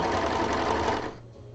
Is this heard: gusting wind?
no